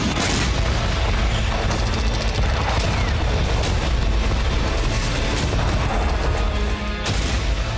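Explosions at an Iranian ballistic missile site: a dense barrage of sharp booms and cracks in quick succession, loud and distant-sounding over continuous roaring noise, with no talk.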